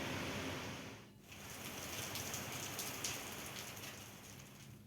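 Heavy rain pours steadily across a state during a monsoon downpour, a dense, loud hiss of drops on surfaces that dips briefly and then holds on, with no voices.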